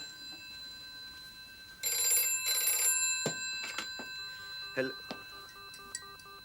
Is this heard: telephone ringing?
yes